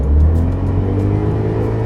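A 2.0-litre inline-four gasoline turbo SUV engine with 265 horsepower is briefly pressed to accelerate, giving a steady, loud, close low rumble and whir that holds for under two seconds.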